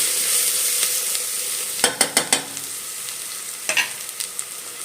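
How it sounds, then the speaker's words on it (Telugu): Ginger garlic paste with a spoon of turmeric frying in hot oil in a pressure cooker for chicken curry, a steady close sizzle broken by a quick run of sharp spoon scrapes and taps, then a few more clatters. "ఒక వన్ సెకండ్ ఫ్రై అవ్వనివ్వాలి ఆయిల్లో అల్లం వెల్లిపాయ పేస్ట్"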